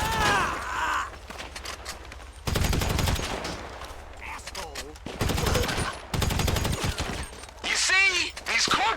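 Bursts of automatic weapon fire in the online game GTA Online, set at a hippie camp, come in several loud sustained volleys separated by quieter gaps with scattered mechanical clatter.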